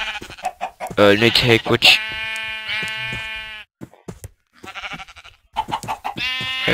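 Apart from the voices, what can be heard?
sheep bleating in a video game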